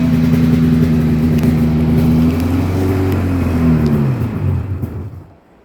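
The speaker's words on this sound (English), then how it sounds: "Watch how snappy this thing is to rev." A 1996 Polaris XCR 440 EFI snowmobile engine revs hard and close, its pitch rising and falling through several sharp throttle blips before the engine cuts out and falls silent.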